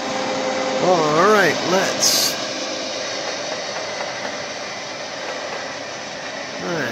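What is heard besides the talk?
milling machine spindle warming up from cold start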